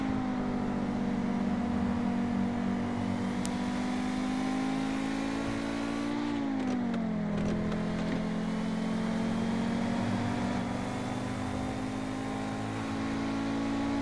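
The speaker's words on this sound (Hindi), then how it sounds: "अच्छी खासी स्पीड पे गाड़ी जा रही है" Modified Honda Civic VTi in a racing game, driven with a steering wheel and shifter, its engine droning steadily at high speed, pitch dipping briefly mid-run before climbing again, loud and continuous with no talk.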